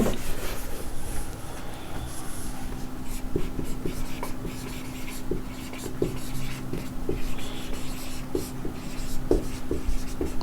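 A pen scratches steadily on paper during a lesson on units and measurement. It gives close, continuous rubbing with light taps over a low constant hum, and the scratching goes on without pause.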